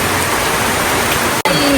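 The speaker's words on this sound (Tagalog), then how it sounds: "Grabing ulan." Heavy rain pours down steadily, a loud dense wash of hissing noise that fills the whole clip, broken only by a split-second dropout near the end.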